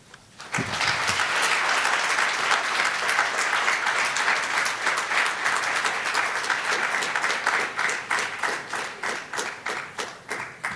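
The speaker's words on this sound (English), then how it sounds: "I think that deserves another round of applause" An audience at an academic event bursts into sustained applause, dense clapping that holds steady for several seconds and then thins into separate claps toward the end.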